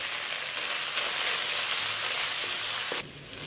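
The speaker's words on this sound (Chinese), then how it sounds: "倒入剁好的姜末和蒜末，" Minced ginger and garlic sizzle steadily in hot oil with Pixian chili bean paste in a wok, a dense, close frying hiss that drops away sharply near the end.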